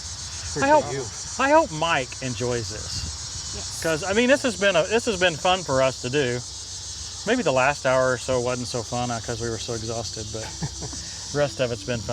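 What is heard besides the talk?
locusts or cicadas chirping at dusk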